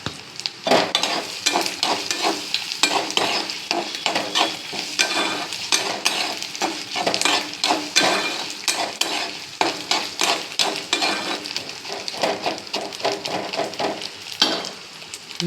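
Asafoetida tempering in a pan for lemon rice: continuous rhythmic spoon scraping over a bright, loud sizzle of hot oil, the strokes repeating quickly throughout with no speech.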